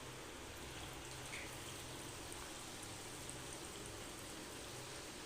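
Biuli dal bora lentil fritters fry in hot oil over a high gas flame, making a quiet, continuous crackling sizzle like light rain that stays steady from start to finish, with no talking.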